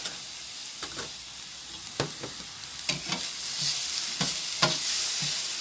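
A spoon stirs butternut squash queso dip in a pan, scraping in scattered uneven strokes over a soft low sizzle, with no talk.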